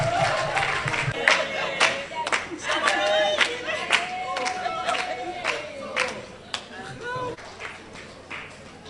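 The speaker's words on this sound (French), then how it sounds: "On applaudit encore." Audience at a business forum with entrepreneurs applauding, bursts of clapping and crowd noise throughout, mixed with speaking voices and cheers, close and lively.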